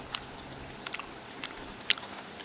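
Someone bites crispy toast at a summer campsite, giving a few sharp, close crunches spaced apart against a quiet background.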